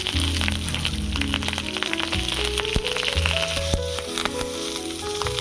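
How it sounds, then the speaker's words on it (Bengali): Two fish fry together on a large tawa lined with banana leaf, giving a loud, steady, close sizzle with scattered pops and crackles throughout and no talking. "দুটো মাছই আমি একসঙ্গে ভেজে নেব।"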